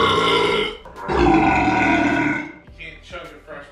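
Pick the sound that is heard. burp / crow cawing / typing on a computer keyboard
burp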